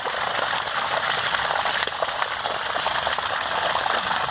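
Water gushes steadily out of a 2019 Zinger Lite 270BH travel trailer after a flood test, a continuous loud rushing drain with no pauses.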